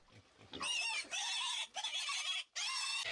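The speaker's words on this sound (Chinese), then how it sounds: "他们在老乡家的猪圈里抓了2只刚出生的小野猪" Two newborn wild piglets, just caught from a farmhouse pigsty, give loud close squealing grunts in three long bursts separated by brief pauses, preceded by a few softer snorts.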